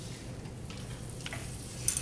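Vegetables and garlic sauté in sesame oil, a faint steady sizzle with stirring scrapes and a light clink of a utensil near the end, no talking.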